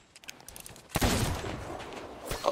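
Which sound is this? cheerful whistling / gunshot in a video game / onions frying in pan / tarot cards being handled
gunshot in a video game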